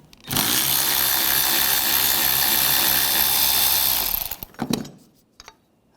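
A power tool with an 8mm socket spins bracket bolts off a 2013-2019 Ford Escape 2.0L during AC condenser work, one loud continuous whirring run of about four seconds, then a few short bursts and clicks as it stops.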